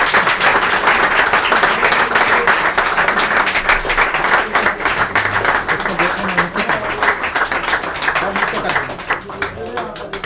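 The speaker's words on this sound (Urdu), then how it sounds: "تالیاں اس وقت تک رکیں گی نہیں جب تک عالیہ امام ڈائس پر نہیں آئیں گی" An audience at a poetry reading claps steadily and loudly for the whole stretch, a dense sustained wash of applause as a speaker is welcomed to the dais, with a voice talking faintly beneath it.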